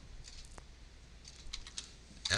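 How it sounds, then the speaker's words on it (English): Typing on a computer keyboard during Mathcad work, a few scattered soft key clicks followed by a sharper cluster of taps at the end, close and fairly quiet, with no talking. "I hit the backslash key on my keyboard to get the square root."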